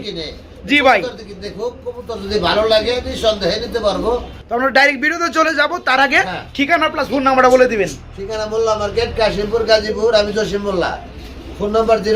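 Pigeons coo softly at a pigeon sale beneath steady, loud conversation between people, with a low background hum running throughout.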